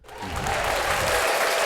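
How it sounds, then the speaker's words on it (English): A podcast studio audience bursts into applause that swells quickly from quiet to a full, dense roar of clapping and holds steady, close and loud. "A round of applause from our studio audience."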